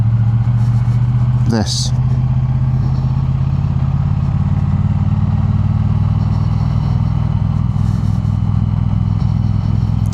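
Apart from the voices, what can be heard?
motorcycle engine while riding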